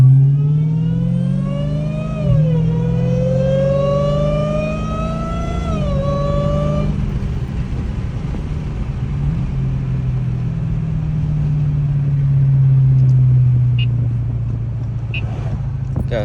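A Dodge Hellcat with its hood off revs hard, its supercharger whine rising and falling in pitch over a loud engine roar, then settling into a steadier drone as it cruises close and loud.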